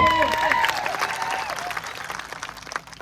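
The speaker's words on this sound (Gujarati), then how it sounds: "પોલીસ અધિકારીઓ જે આપણા બંદોબસ્તમાં છે એમના માટે જોરદાર તાળીઓ પાડી લો" Applause from a crowd at a political meeting, cheering the police officers on duty, loud at first and fading over a few seconds, mixed with some voices.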